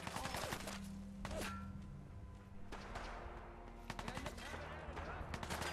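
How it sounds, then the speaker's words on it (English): Scavengers fire guns in Fallout 4: scattered, fairly quiet bursts of shots and rapid volleys come from a distance, with someone talking over parts of the gunfire. "Are they shooting at me?"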